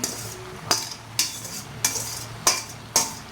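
Noodles stirred in a cooking pot with a metal utensil: five sharp clinks against the pot, spaced about half a second apart, over a low simmering background.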